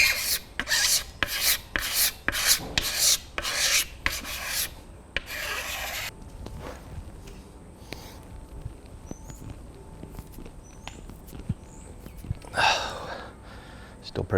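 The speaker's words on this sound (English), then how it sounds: "I'm just gonna take a few scrapes off that with my pocket knife" Rhythmic rasping scrapes of a pocket knife shaving the wood of a stiff self bow limb, a quick series of close strokes followed by quieter, sparse scraping and a later single stroke.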